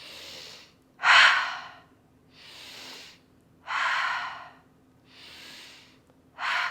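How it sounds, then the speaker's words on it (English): Slow deep breaths during a vinyasa yoga flow, drawn in through the nose and pushed out through the mouth: soft inhales alternate with louder, forceful exhales, about three cycles, close and with no talking. "In through the nose, out of the mouth if possible."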